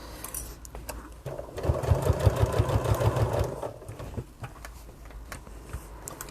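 A sewing machine stitches through fabric while sewing a bag, with a steady rapid run in the middle that starts and stops between quieter pauses and handling noise.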